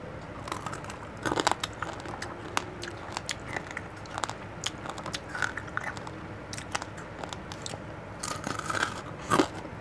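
Flour-fried sausage is bitten and chewed up close in ASMR style, with crisp crunchy bites and crackling chews repeating irregularly throughout and growing louder toward the end, with no talking.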